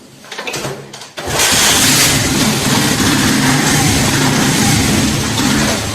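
A Honda 70 motorcycle with a misfiring engine runs at high revs after a brief quieter start, loud and close with an uneven, stumbling roar.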